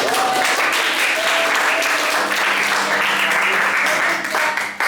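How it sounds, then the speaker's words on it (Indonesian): A class of students applauds in a classroom, a dense, steady clapping that carries on throughout at close range with faint voices mixed in. "Tepuk tangan untuk kita semua dong."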